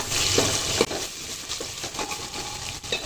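Pieces of vegetable cooking slowly in oil in a pan as a base for a dal-style stew; a dense, continuous sizzle and crackle fills the short stretch, with a few soft stirring knocks and no voices.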